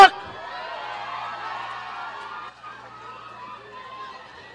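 A rally crowd responds with sustained, moderately loud cheering and noise, a steady wash that dips briefly midway and then carries on.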